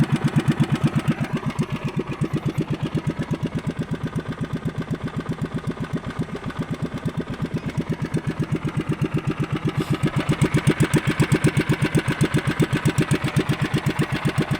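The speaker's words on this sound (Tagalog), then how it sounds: "Bagong chainsaw yan mga idol" A new chainsaw's small two-stroke engine runs steadily at a rapid buzzing idle, close and loud, revving up slightly partway through.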